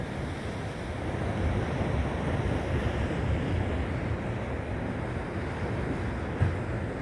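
Mellow ocean waves lightly splashing against rocks along the coast near Palos Verdes, a continuous soft surf wash with some wind noise on the microphone and a small splash near the end.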